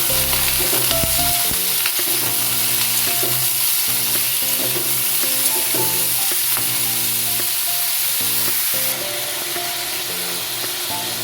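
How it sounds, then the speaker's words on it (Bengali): Ridge gourd frying with salt in a pan over a medium gas flame, a constant loud sizzle and hiss with repeated stirring scrapes throughout, close and without voices. "নুন দিয়ে ভেজে নেওয়ার পর ঝিঙেটা নরম হয়ে গেলে"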